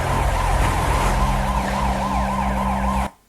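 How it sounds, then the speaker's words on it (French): Loud wailing sirens rise and fall continuously over a low rumbling drone, echoing as if across a city, then cut off abruptly. "On entend résonner des sirènes avec des bruits aussi qui sont beaucoup plus sourds."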